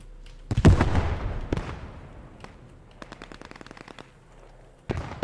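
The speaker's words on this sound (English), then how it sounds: "Now we have an MG 42." An MG 42 machine gun fires in a video game, loud bursts mixed with other gunshots, then a rapid string of lighter distant shots and one more burst at the end.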